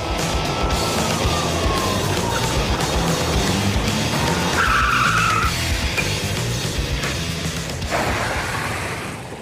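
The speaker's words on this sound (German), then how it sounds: "wollen die Ludolfs als erstes die Bremsen der beiden Klassiker auf die Probe stellen" Two classic cars brake hard on a small sport airfield test track, loud tyre skids and squeals over running engines, one sharp squeal rising midway, the noise tapering off near the end.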